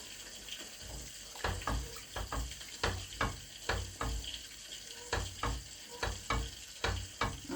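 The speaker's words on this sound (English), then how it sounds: "I'm gonna go ahead and stir it up a bit" A spoon stirs turmeric-colored yellow rice in a pot, producing repeated close scraping and clattering strokes in a steady rhythm with a faint sizzle underneath.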